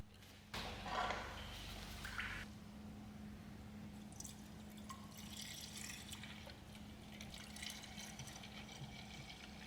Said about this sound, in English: drain the cooling system and fill it up with distilled water and some coolant flush